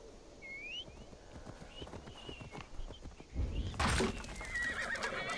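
A horse whinnies in Assassin's Creed Valhalla, then hooves clop along, followed by a louder burst of movement close by.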